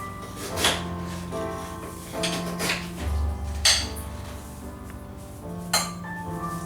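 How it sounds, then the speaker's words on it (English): Whisking an egg with salt and pepper in a bowl, a fork or whisk clinking against the dish in irregular bursts, close and moderately loud with brief pauses between strokes. "Which I'm going to scramble up very well"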